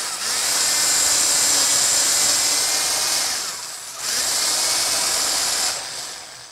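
A power drill bores a hole for a perch peg in a wooden birdhouse, whining steadily and loudly in two close runs with a brief pause between them.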